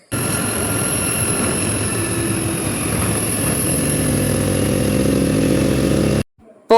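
A scooter ridden along a road to a Maveli store gives a steady rumble of engine, wind and road noise for about six seconds. It cuts off abruptly near the end, and no one talks.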